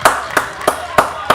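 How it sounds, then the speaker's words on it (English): Five sharp claps land in an even, quick rhythm for someone called CJ, close and fairly loud over a faint low background. "We're clap it up for CJ."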